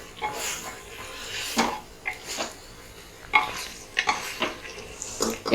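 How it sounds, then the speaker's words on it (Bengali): Chicken pieces are tossed with spices in a pressure cooker pot, producing soft, uneven stirring scrapes and occasional light clinks of a utensil against the pot, fairly close and quiet, with no clear speech. "মশলার সাথে আমি চিকেনগুলোকে খুব ভালো করে মিশিয়ে নেব।"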